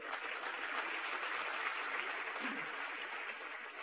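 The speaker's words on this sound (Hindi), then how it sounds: "तो उसके लिए एक जोरदार तालियां हो जाए।" An audience at an Amway celebration event keeps up a continuous, fairly soft round of clapping from a roomful of people, even and unbroken throughout.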